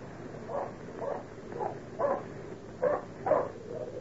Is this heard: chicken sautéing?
no